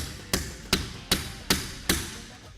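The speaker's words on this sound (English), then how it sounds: "We're gonna strike this side." A hammer strikes a blind rivet five times in a steady rhythm, each blow a sharp, close metallic knock with a quick decay and no talk.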